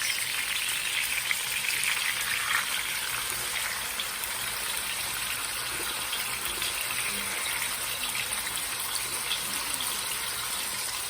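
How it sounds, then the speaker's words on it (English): Thin pork steaks for Portuguese bifanas fry in a crowded pan of oil, giving a steady, dense crackling sizzle that stays close and even throughout, with no talking. "you're gonna fry this a few minutes on each side"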